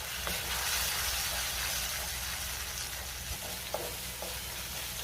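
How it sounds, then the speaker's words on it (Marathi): A paste of garlic, ginger, green chili, onion and tomato sautés in oil with a continuous sizzle, while occasional spoon scrapes stir it. The sound is steady and close, with no voices. "आता हे व्यवस्थित आपल्याला परतून घ्यायचंय"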